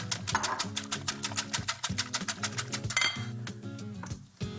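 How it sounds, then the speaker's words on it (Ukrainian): A whisk clinks rapidly and steadily against a bowl while mixing clafoutis batter with green peas, cornstarch and cream, a fast metallic rhythm close by that slows and fades near the end. "І вінчиком все ретельно перемішаю"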